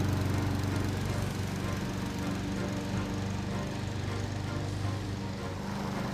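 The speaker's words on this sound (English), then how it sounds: "Push the mower in the direction you want to mow." A Honda HRR2169PKA petrol lawn mower engine drones steadily at close range, a constant loud rumble with no pauses and no voices.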